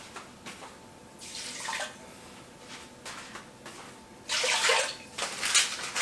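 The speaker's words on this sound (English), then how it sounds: "So I got 2 cups of water." Water poured into a container for a homemade ginger ale mixture, several uneven splashing pours in quick bursts, the last ones louder and closer, with quiet pauses between.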